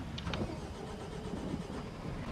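A tractor engine in a farming video game cranks and catches, then settles into a steady low rumble, close and fairly loud with no talking.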